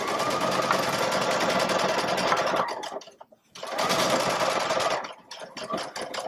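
Baby Lock Solaris sewing machine stitching over a seam, a close, steady high whirr of rapid needle strokes that stops briefly in the middle, then resumes and slows near the end.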